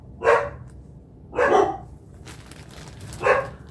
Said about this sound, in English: so of course the dogs have to bark